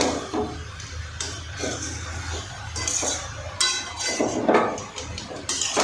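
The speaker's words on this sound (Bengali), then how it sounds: "এবারে নিচ থেকে একটুখানি নেড়ে দেবো ভালো করে" Cabbage being stirred from the bottom of a pan, irregular scraping and knocking strokes of a utensil against metal, moderately loud and close, with no talking.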